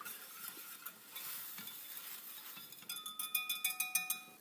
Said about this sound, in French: Puis là on va laisser cuire, laisser réduire tout doucement de moitié.